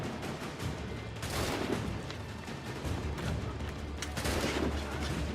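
Soldiers' gunfire in Assassin's Creed 3 comes as scattered shots and rumbling volleys over several seconds, moderately distant and rolling, with a constant battlefield din underneath and no talking.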